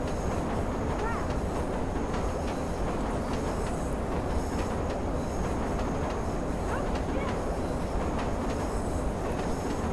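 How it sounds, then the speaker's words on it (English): A train in the game Watch Dogs Bad Blood rumbles past, a steady loud roar of wheels on rails with faint clatter that holds unbroken throughout. "Come on, train, go."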